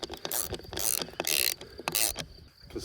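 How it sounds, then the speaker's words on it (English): A 200mm bolt is screwed into a wooden post for a field gate outdoors, with a continuous ratcheting and grinding as the tool turns, close and fairly loud. "To screw him right in and then back him off a bit."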